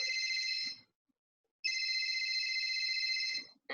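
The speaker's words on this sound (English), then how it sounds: "I have got my phone, which is making this sound." An electronic phone ringtone plays two bursts of bright, warbling tones separated by a short silence, close and clear, with a third burst just starting.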